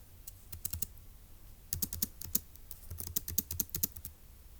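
Typing on a computer keyboard: close, crisp key clicks in quick bursts with short pauses between, alone with no talk.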